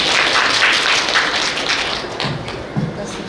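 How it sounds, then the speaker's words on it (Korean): An audience at a university innovation forum session applauds, a dense, loud clatter of many hands clapping together that fades slightly toward the end, with a couple of low thumps. "박수로 맞이해 주십시오."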